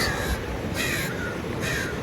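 A crow caws three times at roughly even intervals, clear and fairly close, over a faint outdoor background with no talking.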